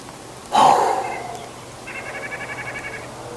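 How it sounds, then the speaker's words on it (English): A loud wild turkey gobble bursts out nearby, followed by a softer, rapid run of gobbling calls a moment later. "I was surrounded by turkeys"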